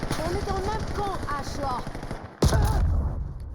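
Gunfire rings out in the video game Black Ops 7, with sniper shots in the match; someone talks excitedly in French over game sounds, then a sharp loud shot bursts in near the end.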